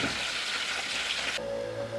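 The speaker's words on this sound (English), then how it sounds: "just let it gently sizzle in the deep pot" A chicken thigh gently sizzles skin-side in a deep pot, giving a steady, close frying hiss for about a second and a half before it cuts to a quieter background with a low hum.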